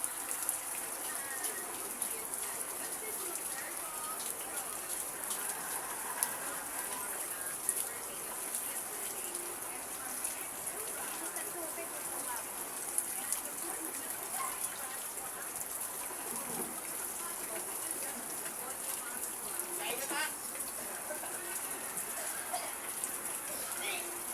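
Rain pours down steadily amid wind, with water pushing in at the front door. It makes a faint, even hiss that lasts the whole time, with occasional soft bird calls in the background.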